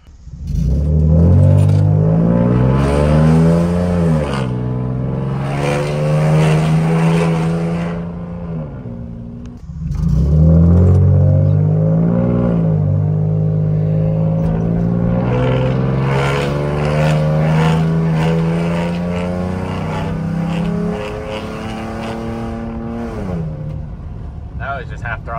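A Ford F150 pickup truck accelerates hard in two long, loud, close pulls, its engine note climbing steadily through each gear before easing off, with no voices over it.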